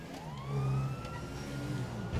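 Police car sirens wail in GTA 5 over continuous engine and road rumble, with a rising then falling siren tone that stays moderately close and steady and has no talk over it.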